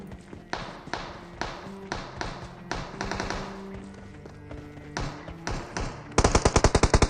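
Video game gunfire from M4 and AWM rifles: scattered sharp shots at varying distance, some faint and echoing, ending in a loud rapid burst of automatic fire, with a voice occasionally under it.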